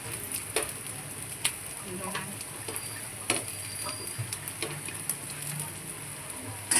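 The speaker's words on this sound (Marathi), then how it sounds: "तेल सोडायचं आहे चांगलं असं दोन्ही सा साईडून आपल्याला शेकून घ्यायचं व्यवस्थित" Potato patties shallow-frying in oil in a pan, a steady crackling sizzle that lasts throughout, with scattered sharper pops and light clicks, close and without talk.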